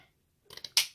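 Scissors snip a strip of lace during a papercraft project: a few quick, close blade clicks, ending in one sharper, louder cut.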